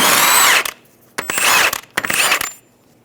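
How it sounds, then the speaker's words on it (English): An impact tool loosens a Toyota Camry axle nut with a 30mm socket in three close, loud bursts of rattling hammering, separated by short quiet gaps. "we're going to remove the axle nut"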